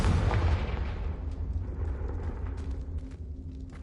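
A Confringo fire spell blasts in Hogwarts Legacy, a loud booming burst at the start that decays into a fading rumble, heard alone.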